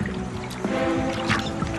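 A mugger crocodile bubbling and spraying water gives brief, quiet wet splutters and drips at close range, a short burst of gurgling liquid sound.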